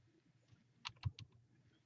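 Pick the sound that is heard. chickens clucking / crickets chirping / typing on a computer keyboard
typing on a computer keyboard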